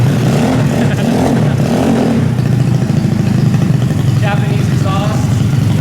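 Widebody Toyota Supra with a 3.4-litre engine and handmade custom Japanese exhaust, running close and loud with a deep rumbling idle and a few swelling revs, while people talk nearby.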